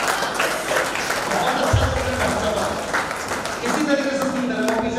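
Audience applause at a Hindi comic poetry gathering (hasya kavi sammelan) held by Janardan Rai Nagar Rajasthan Vidyapeeth in Udaipur: a dense, steady wash of many hands clapping throughout, with voices mixed in underneath.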